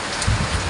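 Heavy downpour from Typhoon Carina, a brief dense hiss of rain falling steadily on surfaces nearby.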